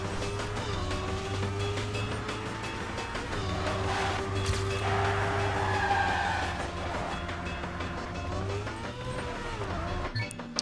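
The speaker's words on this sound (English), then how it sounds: "I went over the wall really good, but I had a crash which costs me some time." Race car in a racing video game skidding with tire squeal over a steady, loud engine drone, with a scraping crash against a wall near the end.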